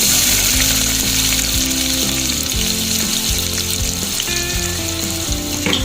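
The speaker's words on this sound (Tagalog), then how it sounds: "gigisahin na natin ang lentils. Una, yung ating bawang" Garlic sautéing in a hot pan for a lentil dish, a loud continuous sizzle with occasional stirring scrapes, close up and alone without talk.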